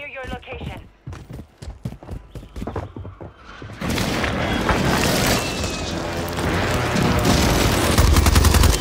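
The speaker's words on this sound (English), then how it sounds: "Hostile airstrike near your location." Airstrike explosions and gunfire in Call of Duty Warzone, sharp scattered shots first, then a sudden sustained roaring barrage of blasts that stays loud to the end, with a voice heard early.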